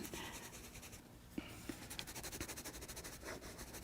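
Colored pencil laying green onto paper while building up layers on a fruit drawing, a soft, quiet, continuous scratchy rubbing in steady rhythmic strokes with a few small taps, close and alone without talk.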